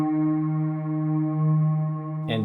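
Bowed guitar viol washed in Strymon BigSky reverb plugin: a single sustained, droning tone with rich steady harmonics, swelling gently and ending in a brief brighter scrape, with no talk.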